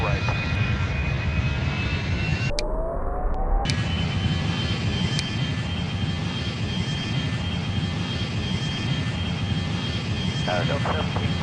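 Steady broadband roar of Boeing MD-90 jet engines spooling up for takeoff in a flight simulator game, continuous and loud throughout, with a brief dip partway and radio tower chatter mixed in.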